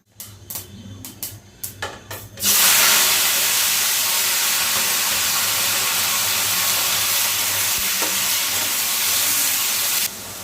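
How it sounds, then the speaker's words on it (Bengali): Whole mustard seeds drop into hot oil for a tomato chutney, starting with a few sharp taps and then bursting into a loud, steady, crackling sizzle that holds until the end. "এখানে আমি কিছু আস্ত সরষে দানা নিয়ে নিয়েছি, ফোড়নে দিয়ে দিলাম"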